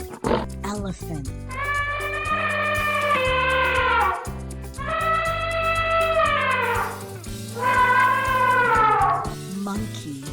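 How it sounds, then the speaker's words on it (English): An elephant trumpets three times, each blast a long, loud, brassy call that swells and then fades, separated by brief pauses, with children's background music playing throughout. "elephant,"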